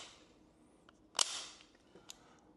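The trigger of a SCCY CPX4 .380 pistol resets with a single sharp, close metallic click in a quiet room, followed by a couple of fainter small ticks.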